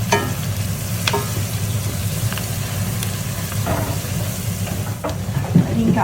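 Onion, curry leaves and chili sautéing in hot oil for a Pakistani curry, a steady loud sizzle with occasional stirring scrapes throughout, no talking.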